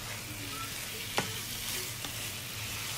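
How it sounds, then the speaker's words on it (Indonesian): Chicken for mie ayam being stirred into spice paste in a frying pan, a steady sizzle running throughout with a couple of sharp scrape clicks from the spatula, close and moderately loud with no talking. "Kita masukkan ke dalam bumbunya. Dan di sini kita aduk-aduk ya."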